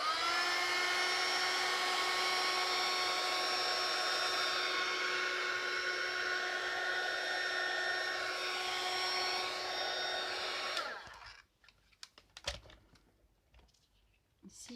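A hair dryer drying Brusho paint on photo paper runs with a steady, whining blow for most of the clip, then switches off. Faint handling clicks and rustles follow in near quiet.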